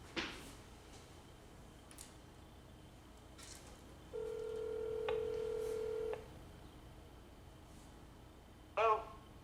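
Telephone on speakerphone: a short sustained dial-type tone after faint clicks, then a ring burst near the end, thin and quiet over background hiss, with no talk.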